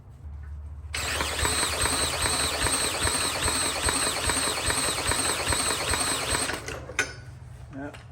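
An old Briggs small engine is cranked and catches into a rough, buzzing run, loud and close for several seconds before cutting out, with a low background hum before and after.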